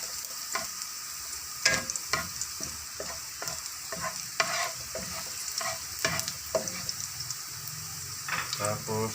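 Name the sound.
garlic frying in a pan for pancit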